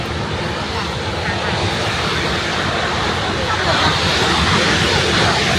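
A boat engine passes on the river near Niagara at the Canada border, heard as a steady, loud, broad rumble mixed with wind-like rushing that holds constant throughout.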